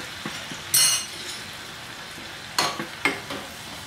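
Caramel popcorn with pepper being stirred in a hot pan on a stove, giving a few sharp scraping, rattling bursts over a faint sizzling background, close and moderately loud, with no talk.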